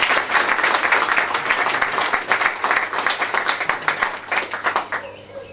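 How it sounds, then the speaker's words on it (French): Wedding guests at a civil marriage ceremony applaud loudly, a dense, sustained round of clapping that becomes more uneven and fades toward the end. "Veuillez applaudir très très fort ce choix"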